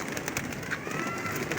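A pigeon held in the hand gives soft, rolling coos among pigeon keepers in Lahore. The calls come close and fairly quiet over a faint background murmur.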